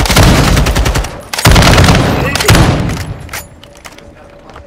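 Rapid automatic gunfire rattles in Call of Duty: Modern Warfare II, loud bursts of close shots in three volleys that trail off into scattered distant pops.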